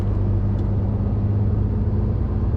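Steady, loud road rumble of car traffic on a road, a continuous low engine and tyre drone with no clear rise or fall, heard close and alone.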